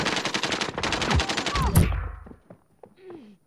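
Fast automatic gunfire rattles in a dense, rhythmic stream during a Call of Duty Warzone duos match, ending abruptly and leaving a few faint scattered game sounds behind.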